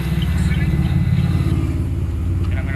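Road traffic rumbles past outdoors in the evening, a steady low engine drone from a nearby vehicle with voices talking over it.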